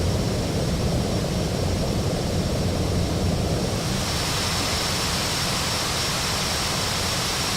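Boeing 737-800 jet engines run in Flight Simulator X, a loud, constant broadband roar with a thin steady whine, unchanging for the whole stretch and with no talk.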